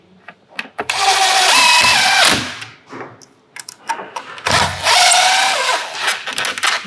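A power drill drives screws into a bathroom cabinet frame in two loud, whirring bursts a few seconds apart, each a second or so long, with a short pause and faint handling noises between them.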